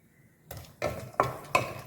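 Nuts dropped into hot ghee in a kadai while making ragi ladoo, four distinct clattering additions followed by soft crackling sizzle, fairly quiet and close with no talking.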